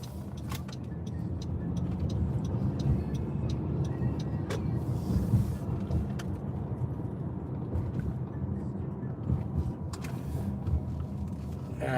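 A car cruising and slowing to pull into a home driveway, steady engine and road rumble heard from inside the cabin, fairly quiet with no talk.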